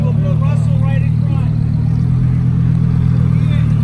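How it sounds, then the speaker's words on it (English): Lamborghini Huracan supercar pulling up with a loud, steady low engine drone close by, and voices chatting over it. "Lamborghini guys are pulling up"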